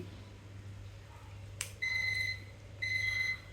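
A water-level alarm on a bore well tank at home goes off, sounding two steady high electronic beeps of about half a second each, separated by a short pause, over a constant low hum.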